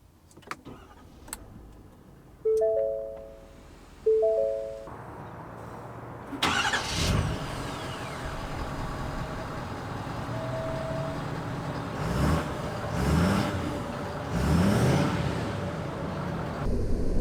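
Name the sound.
2019 Ford F-350 Limited pickup truck driving off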